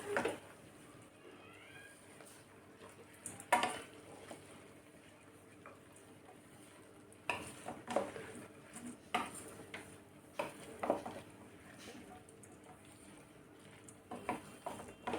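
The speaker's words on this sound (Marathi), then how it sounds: "तांदूळ घातल्यानंतर आता आपण हे मिक्स करून घेऊया" A spoon stirs rice, vegetables and water for khichdi in a pot, giving scattered, faint metallic clinks and scrapes in irregular bursts over a quiet background.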